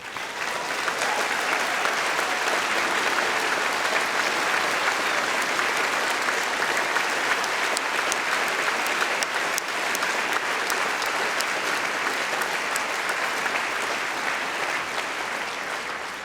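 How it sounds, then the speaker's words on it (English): Steady applause from a large conference audience, sustained and even throughout with no pauses, dense clapping filling the whole stretch. "So let us applaud Greta Thunberg."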